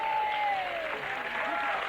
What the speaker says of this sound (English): That's a lovely hobby to have. Round of applause.